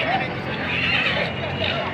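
Horse whinnying amid a cattle and horse livestock market, with someone talking over it and steady crowd noise in the background.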